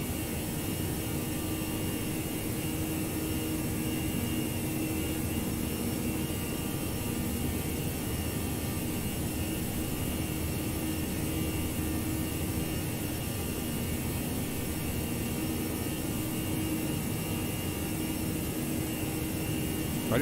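Steady, loud roar of an Airbus airliner's jet engines climbing out of Montreal after takeoff with the gear retracting in the X-Plane 11 flight simulator, a constant broadband drone with no variation throughout.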